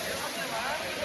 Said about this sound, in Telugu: అరకు దగ్గరలో ఉన్న కటికి వాటర్ ఫాల్స్